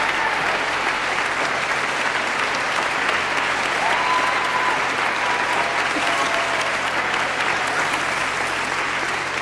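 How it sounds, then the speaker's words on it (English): An audience at a gospel concert gives a long round of steady applause, thick even clapping that holds at the same loud level from start to finish. "Y'all give her a hand clap for me."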